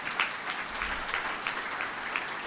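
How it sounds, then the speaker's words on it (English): Applause from a conference audience at an opening session in Albany: faint, somewhat distant clapping with a steady patter of hands and a few louder claps standing out. "Let's give them a round of applause."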